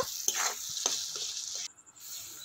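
A spatula stirring and mashing tomatoes with spices in a pan, close soft frying sizzle with several sharp scraping taps of the utensil against the pan bottom, brief and quiet.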